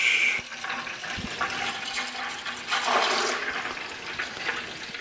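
Old, dirty oil drains from an Allis Chalmers motor grader into a pail, a steady close liquid pour and splash running continuously with brief surges, no talking.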